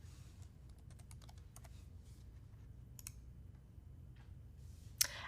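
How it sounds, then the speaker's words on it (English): Someone types a name on a computer keyboard, producing quiet, close clusters of key clicks in a few brief flurries, with soft pauses and a single sharper click near the end. "I'm going to enter Devin and then click Check Names to verify that I typed it in right."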